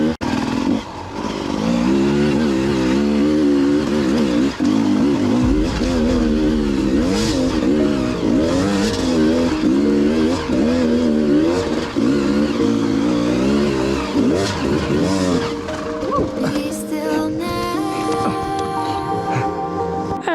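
Enduro dirt bikes climb a hard enduro track, their engines revving hard and loud through gear changes, rising and falling in pitch as they labour uphill, with a voice talking over part of it.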